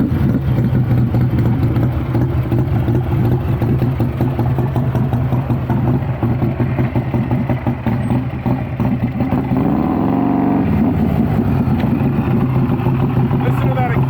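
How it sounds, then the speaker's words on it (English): A loud motorcycle exhaust rumbles continuously at close range on a bagger, its pitch rising and dipping briefly as it revs, with faint voices beneath. "Listen to that exhaust."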